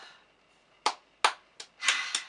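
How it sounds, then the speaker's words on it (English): A single person clapping for themselves indoors, about five or six separate sharp claps at uneven intervals, close and fairly quiet, with no voices. "Let me just give myself a round of applause"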